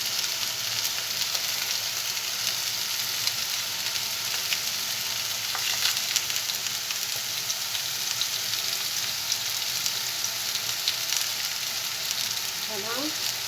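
Onions and garlic cook in a pan with a constant loud, dense sizzle and crackle running without a break, steady and close throughout.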